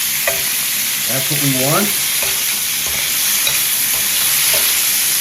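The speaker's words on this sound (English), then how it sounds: "The shrimp only takes a couple of minutes to cook." Shrimp sizzle and crackle steadily in a hot stir-fry pan with a few stirring scrapes, while a voice speaks briefly over the frying.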